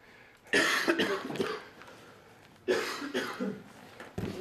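Two bursts of coughing a couple of seconds apart, close and fairly loud, each a rough cluster of harsh coughs followed by a short trailing one.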